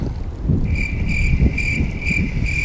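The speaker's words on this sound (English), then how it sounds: "And thank you, wind." Wind buffets the microphone outdoors during bass fishing in North Carolina, a steady low rumble throughout, with a high insect-like whine joining partway through and continuing to the end.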